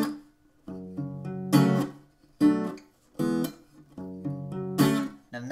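Acoustic guitar on a song, plucked chord notes broken by sharp percussive muted strums in a repeating rhythm, close and clear with no talking.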